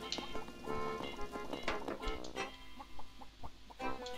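A chicken in the Ben and Ed video game, several clucks scattered through the passage beside other game sounds at a modest level.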